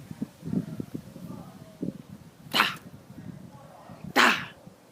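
A bouncy dog named Rocky snorts and sneezes in two sharp bursts, with low huffing and snuffling between them, close by while a person talks to it.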